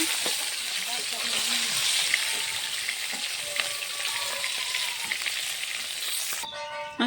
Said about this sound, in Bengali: সম্পূর্ণ মাছ ভাজাগুলো হয়ে গেছে, এখন আমি মাছ ভাজা তেলে ধুয়ে রাখা কপিগুলো ভেজে দেব।